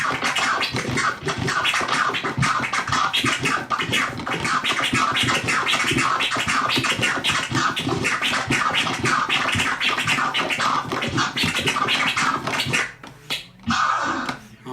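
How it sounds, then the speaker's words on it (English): A DJ scratches vinyl in a fast flare and crab combination, dense rapid rhythmic chirps and stutters running continuously at loud, close level before breaking into a few short final cuts. "a flare and a crab would sound like this"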